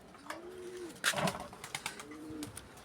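Pigeons coo softly inside a small hut in Palawan, several low rolling calls close by, mixed with light rustles and a brief flutter of movement.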